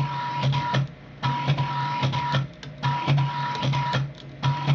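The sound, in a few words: CNC coil winder winding wire onto Rodin starship coil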